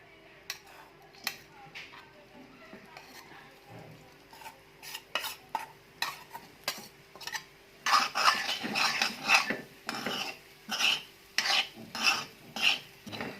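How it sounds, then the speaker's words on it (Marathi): Green chili and peanut chutney roasting in hot oil in a pan, with repeated scraping and stirring strokes that grow louder and busier in the second half, close up, with no talking. "आपण हिरव्या शेंगदाण्याची चटणी व्यवस्थित भाजून घ्यायची असेल चांगलं आहे"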